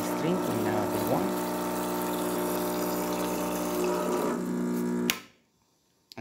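A Rancilio Silvia espresso machine with a new water pump hums steadily and loudly while water streams out, holding for about five seconds before cutting off abruptly into near silence.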